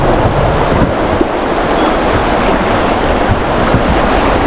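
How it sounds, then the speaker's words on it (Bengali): Fast, turbulent river water rushing steadily around a raft on a rapid stretch in Nameri National Park, a loud, continuous broadband roar with wind buffeting the microphone. "এখানে বেশ ভালো স্রোত রয়েছে।"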